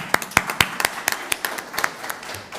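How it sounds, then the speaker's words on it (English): Sparse, distinct hand claps from a small conference audience thanking speakers after an endoscopic sinus surgery Q&A session, irregular and fairly close, thinning toward the end. "I'd like to thank the speakers in our traditional way and give them a round of applause"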